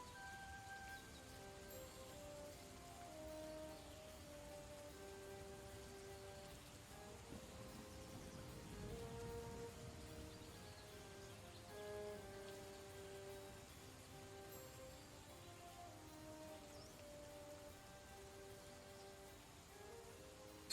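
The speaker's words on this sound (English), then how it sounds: "I swear it's because I put on this goddamn rain." Rain ambience plays as a soft, continuous patter under a stream, steady throughout with faint tonal music or chimes layered beneath it.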